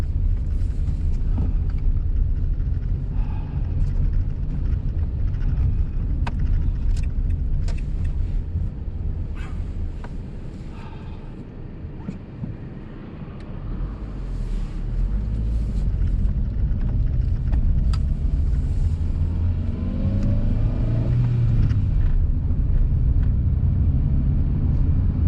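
A 2005 Renault Clio climbs a steep hill to test its clutch, giving a steady engine drone and road rumble from inside the cabin that dips briefly midway and then builds again.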